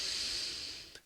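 A voice imitates a child's deep breath while falling asleep: one long, soft, airy inhale-exhale hiss, close and quiet, ending with a brief catch.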